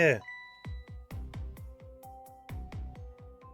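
Bell sound in the video game Ghost Trick, a series of resonant struck tones ringing in an uneven rhythm, each note decaying into the next, loud and clear after a brief opening sound.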